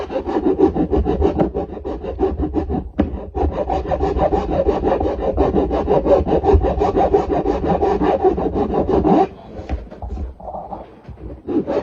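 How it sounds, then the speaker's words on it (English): Abrasive rubbing on the scalloped frets 17–21 of a Nema ST-25 guitar neck, heard close and loud as a steady, continuous rasping scrape that barely lets up, with a short break near the end. "Then I'll use the sandpaper."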